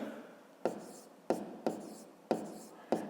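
Numbers are written by hand for a fifth-grade maths exercise: about five sharp, close pen or chalk strokes at uneven intervals, each a quick tap trailing into a soft scratch, with no talking.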